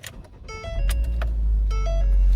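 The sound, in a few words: 2009 Ford Focus SE engine starting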